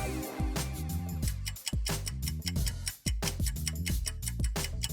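A Google Pixel smartphone ringtone plays a bright, repeating melodic pattern of plucked, bell-like notes, loud and close, with a short dip near the middle and no voices.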